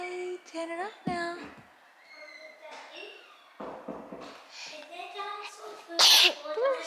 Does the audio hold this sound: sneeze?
yes